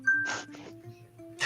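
A phone's text message notification dings once, a short bright chime heard fairly faintly in a quiet room, followed by a brief rustle, with no talking.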